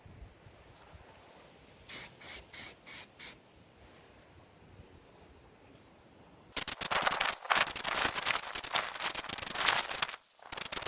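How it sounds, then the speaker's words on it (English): Spray gun applying a heavy fourth base coat to an alloy wheel: five short hissing bursts, then a long continuous loud spray hiss with two brief pauses, close by. "again spray evenly with long repeated spray passes to build up the heavy layer here"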